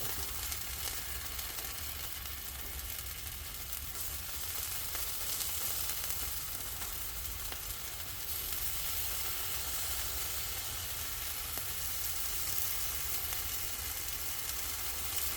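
Potatoes sizzle and crackle steadily in a hot pan, a continuous close hiss of frying oil with small pops and no voices.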